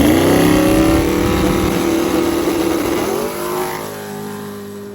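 A Zuzu drag race car making a pass: a loud, close roaring engine holds a strong, steady tone, then drops and fades as the car pulls away.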